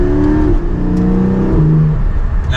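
A Porsche 718 Spyder pulling away under acceleration with its PDK transmission, the engine note rising loud and close, then dropping at a quick upshift before climbing again.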